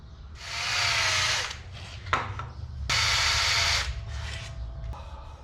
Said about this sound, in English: we're gonna run the hone through this thing just to see how much cleaner we can make it